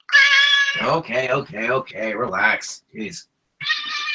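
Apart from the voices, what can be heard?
pet cat meowing and whining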